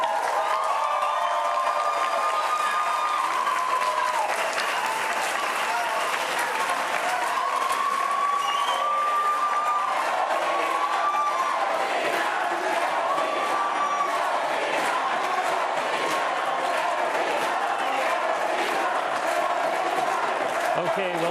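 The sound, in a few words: debate audience applauding the candidates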